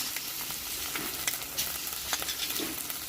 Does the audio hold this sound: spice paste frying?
yes